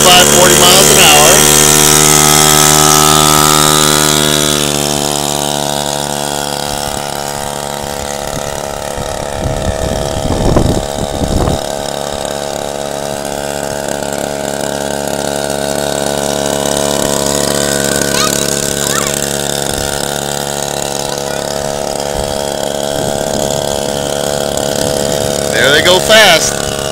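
Small mini Harley motorcycle engine droning steadily as it rides laps at 35 to 40 mph, loud near the start, then a quieter sustained hum passing at a distance, with faint voices mixed in.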